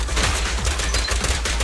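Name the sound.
gunfire in video game Zenless Zone Zero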